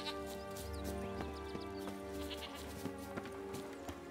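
Goat bleating in the video game The Witcher 3: Wild Hunt, a drawn-out wavering bleat over steady background music, with faint hoof-like clicks scattered throughout.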